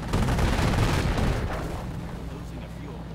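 Heavy mortar explosions boom in a World War II strategy game, a dense low rumble of several overlapping blasts that loudens early and then fades into a steady grumbling tail.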